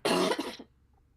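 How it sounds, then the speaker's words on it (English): A single sharp cough bursts out close by, followed by quiet. "Those were coughs."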